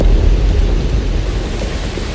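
Steady, dense rainfall roars from start to finish, a thick continuous wash with heavy low rumble that may include thunder. No voices are heard.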